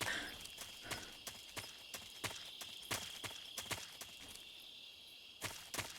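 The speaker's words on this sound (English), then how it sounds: "The sound of my own footsteps," Own footsteps in the stealth video game Metal Gear Solid 3, a faint, regular series of crisp steps with a clip-clop quality over quiet jungle insect ambience, no talking.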